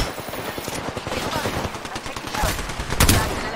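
Rapid automatic gunfire rattles in a shooter video game, close and loud, with bursts of shots and a heavier boom near the end, and voices talking over it.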